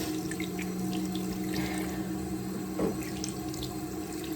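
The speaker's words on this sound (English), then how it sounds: "Give that a good rinse." Tap water runs steadily into a bathroom sink while a face is rinsed during a skincare routine, a continuous close splashing stream with a brief louder splash near the end and no talking.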